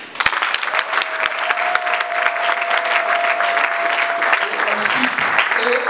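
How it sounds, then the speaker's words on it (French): Loud, sustained crowd applause at a political rally for the re-election of Congo's president Félix Tshisekedi, dense clapping filling the whole stretch, with a sustained tone partway through and a few voices near the end. "je vous appelle à l'applaudir."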